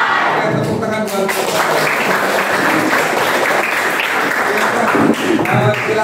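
A class of 9C students applauding together in a classroom, loud dense clapping that fills the whole stretch with a brief dip near the end, some voices mixed in.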